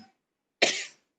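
A single sharp cough up close, brief and breathy, after a moment of near silence.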